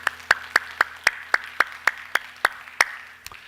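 Church congregation clapping in unison after a prayer, about a dozen sharp, evenly spaced claps at a steady beat, clear and close with a quiet room behind, the last clap softer and trailing off.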